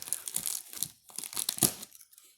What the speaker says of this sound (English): Always be careful when opening these packages with scissors